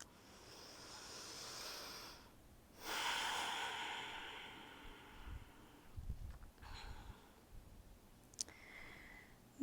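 A person lying in savasana at the start of a yoga practice breathes slowly, with long soft inhales and exhales audible close by, then a few quieter breaths and small clicks in an otherwise quiet room.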